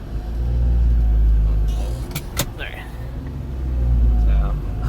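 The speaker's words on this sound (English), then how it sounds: "I can actually drive down the street real quick and only use my camera." A Honda Acty van drives down a street at night, its low engine rumble steady and close throughout, with a couple of brief sharp clicks partway through.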